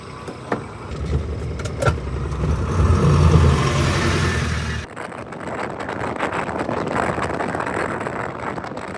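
A vehicle rolls along a village road in the early morning, its steady broadband road and engine rumble filling the scene, with a brief thump partway through and a slightly thinner, windier tone afterward.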